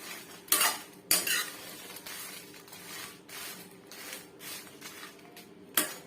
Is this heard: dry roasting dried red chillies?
yes